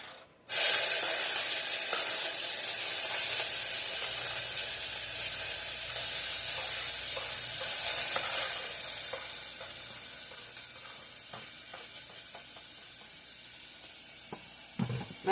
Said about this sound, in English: let me get our stuff start frying here